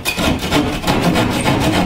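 Drywall sawed by hand at the corners of a cut opening in a wall, a continuous close rhythmic rasping of strokes, loud and alone.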